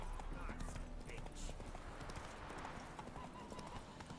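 Horse hooves clip-clopping at a quick, steady gallop in The Witcher 3: Wild Hunt, with game ambience and a voice urging the horse on, moderate and continuous.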